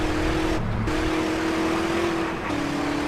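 A car drives fast in the mobile version of GTA San Andreas, giving a loud continuous engine drone with a steady tone that drops briefly twice as the revs shift. No one speaks.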